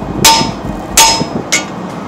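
Three sharp hammer blows strike a car's outer tie rod during a steering repair, evenly spaced about three-quarters of a second apart, each a loud metallic crack that rings briefly; the third hit is lighter.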